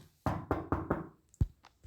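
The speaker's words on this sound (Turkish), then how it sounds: "Kapı çalar." Four firm knocks on a door in quick succession, close and loud, followed by a few fainter thuds and taps, with no talk.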